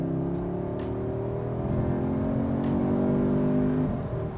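An Audi S3 with a 7-speed dual-clutch gearbox launching hard under launch control, its engine roaring close and loud as the revs climb steadily, with a brief dip near the end as the gearbox shifts.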